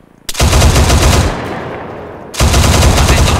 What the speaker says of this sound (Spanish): Atentos tiros desde la colina.